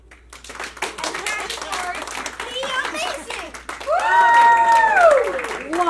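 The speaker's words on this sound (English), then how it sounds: "They just need lots of clapping from the audience." A live audience claps for a children's magic act at a fall fashion event, in steady, fairly loud clapping mixed with excited voices and a rising squeal of cheering near the end.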